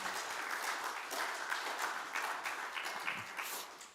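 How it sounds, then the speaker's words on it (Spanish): A church congregation claps in sustained applause for the brothers, a dense, steady patter of many hands from a fairly distant room that holds evenly for the whole stretch without talk over it. "un aplauso para los hermanos"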